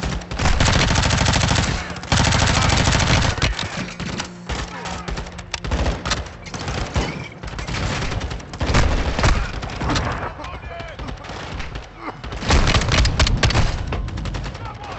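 Sustained bursts of automatic gunfire and heavy shots in Call of Duty Modern Warfare 2, loud and dense with brief pauses between volleys, with a voice speaking intermittently under the shooting.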